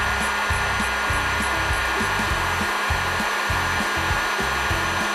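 A heat gun blows a steady, loud whooshing roar while heating black heat shrink on an electric floor heating cable end cap, with faint intermittent clicks and rubbing underneath.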